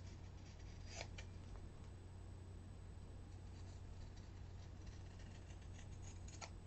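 Scissors snip through scrap fabric while tags are being made, a few crisp cuts standing out over a steady background hum.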